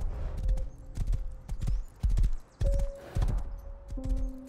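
Horse hooves clopping in the survival game Rust, a close, loud series of irregular hoofbeats in quick clusters, with faint tonal game sounds in between and no clear talk.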